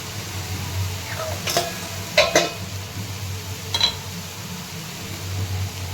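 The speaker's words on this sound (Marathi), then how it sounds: "पावभाजी मसाला टाकून घेते आणि परतून घेते" Pav bhaji with masala being sautéed in a pan: a low steady sizzle, with a few short spoon scrapes and clinks against the pan, close by.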